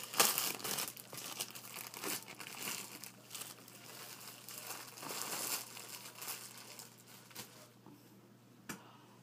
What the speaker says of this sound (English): This is the way it comes in the mail with cellophane on it.